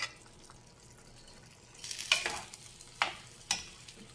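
Diced potato tipped into a hot pan with serrano chiles, followed by a burst of sizzling frying and a few scraping stirs, close and fairly loud against quiet kitchen background with no talking.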